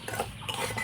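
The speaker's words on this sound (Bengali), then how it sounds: "শুকনো খোলায় একটু নাড়াচাড়া করে সুজিটাকে 2 মিনিটের মতো ভেজে নেব" Semolina dry-roasted in a wok over low heat, a utensil scraping and stirring in quick, quiet repeated strokes against the metal pan.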